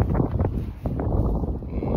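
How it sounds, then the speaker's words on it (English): Wind gusts on a cold, snowy spring hillside buffet the microphone in a loud, rough roar with rustling and brief dips. "it's very windy and cold"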